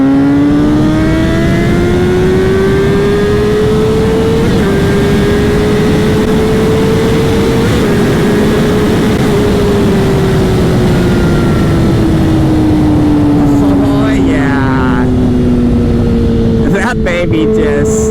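An older Honda CBR600RR sport motorcycle engine, 118 horsepower, revs hard in third gear from about 60 with a loud, steady rising whine that climbs, eases off, then climbs again, with wind rush throughout.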